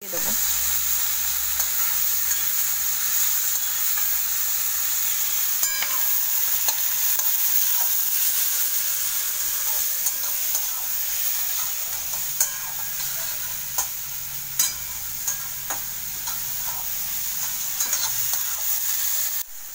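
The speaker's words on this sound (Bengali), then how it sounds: "কড়াই দিয়েছি সাদা তেল, সাদা জিরে ফোড়ন, আর পেঁয়াজ দিয়েছি, কাঁচা লঙ্কা দিয়েছি" Onion, green chili and cumin seeds fry in white oil in a wok with a pinch of salt, giving a constant bright sizzle with scattered scrapes and clicks from stirring.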